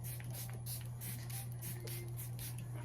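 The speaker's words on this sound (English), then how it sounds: "But my Charlotte Tilbury Airbrush Flawless Filter Spray." Charlotte Tilbury Airbrush Flawless setting spray misted in several short, soft hissing bursts close to the microphone during a makeup routine, with a steady low hum underneath and no talking.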